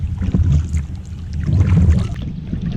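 Paddling a one-seat Whitewolf 9.9 ft kayak on calm water, with low, steady churning swishes of the paddle and water against the hull, close and continuous, with light wind noise.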